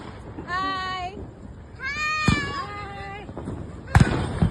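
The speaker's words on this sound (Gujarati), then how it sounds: "GMDC જઈને અમે ફટાકડા ફોડીશું" Diwali firecrackers go off at the GMDC ground, two sharp, loud bangs a couple of seconds apart, with rising whistle-like tones and people's voices in between.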